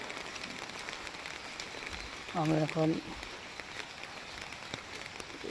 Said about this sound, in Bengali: ইটানগরে এত বৃষ্টি হইতেছে